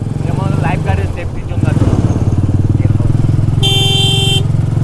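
A motorcycle engine idles and revs with a steady throbbing drone on a Bandarban to Cox's Bazar bike tour, close and loud, while people talk over it and a horn sounds briefly near the end.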